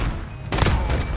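Gunfire in Call of Duty Modern Warfare: a single loud, close burst of broadband shot noise, with a couple of quicker cracks trailing behind it, over continuous game ambience.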